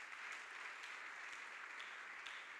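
A church congregation applauds in steady, sustained clapping that fills the space, with no voices standing out.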